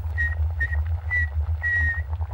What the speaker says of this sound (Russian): Я умею аккуратно свистеть.